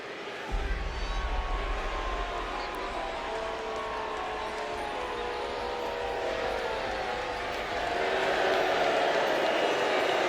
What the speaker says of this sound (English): This crowd absolutely loves these guys.